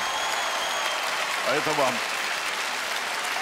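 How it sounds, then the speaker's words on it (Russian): A concert hall audience applauds in a broad, steady wash of clapping that runs the whole time, while someone speaks briefly over it near the middle. "Зал аплодирует"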